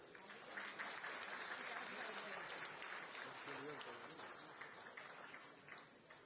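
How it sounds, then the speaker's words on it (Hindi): An audience in Delhi, at an event connected to World Para Athletics, gives sustained applause with clapping that stays fairly even throughout, and a voice can be heard faintly underneath. "मैंने कितनी बार बोली आप तालियां बजा दो, लेकिन नहीं बजाई, मैम के कहने पर बजाई"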